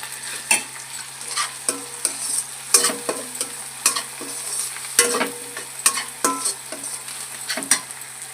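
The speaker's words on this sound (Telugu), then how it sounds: "ఆయిల్లో బాగా బ్రౌన్ కలర్ వచ్చే వరకు ఆయిల్లో బాగా మగ్గనివ్వాలండి" Tempering spices frying in oil until browned for a mutton curry, a close sizzle punctuated by repeated sharp scraping and clinking stirs of a utensil against the pan, loud, with no one speaking.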